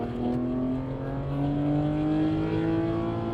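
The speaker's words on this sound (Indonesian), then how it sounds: "Terus dia punya bunyi knalpot ya" A BMW E90 exhaust drones steadily while the engine pitch climbs gradually through a sustained rev, loud and close, with no voices over it.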